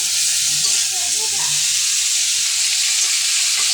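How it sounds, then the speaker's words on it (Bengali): Bitter gourd and potato curry with shing fish sautés in a pan with an even, loud, steady sizzle and light stirring scrapes near the start. "আমার তরকারিটা কষানো হয়ে গেছে, জল দিয়ে ফেলবো।"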